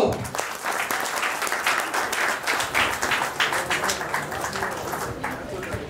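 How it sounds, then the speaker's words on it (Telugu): Sustained applause from an audience at a film academy's second anniversary celebration, a dense steady wash of many hands clapping at moderate distance with no voices over it. "ఒకసారి చప్పట్లో"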